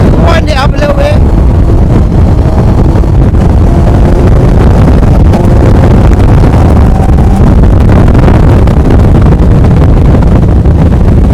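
A racing car with a Hayabusa motorcycle engine and a flat-shifter revs up hard close by, a loud, continuous engine roar with rising pitch sweeps at the start that fills the whole stretch.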